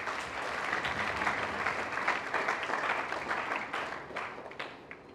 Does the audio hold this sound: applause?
yes